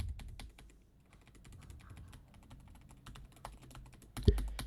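Steady clicking of a computer keyboard, close and fairly quiet, keys tapped in an irregular stream with no voices, ending on a louder thump.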